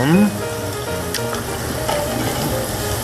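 Meat grilling on a hot surface sizzles in a steady, close crackling hiss, with small pops and spits scattered throughout and a brief human sound at the start.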